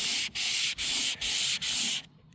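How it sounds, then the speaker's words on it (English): Five even, rhythmic strokes of a flat sanding block rasp across a Hummer H1 hood up close, each a steady scratchy hiss, then stop. "when you use a flat block and you start sanding"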